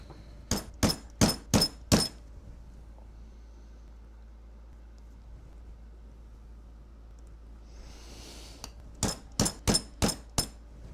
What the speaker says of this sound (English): And then we smash it with a hammer.